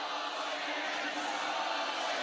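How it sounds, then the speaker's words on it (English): Stadium crowd at a Legends Football League game in Australia, Queensland Brigade against New South Wales Surge, reacting to a referee's touchdown call with a steady, dense roar of voices that stays even and loud throughout. "And the crowd expressing their views of that call."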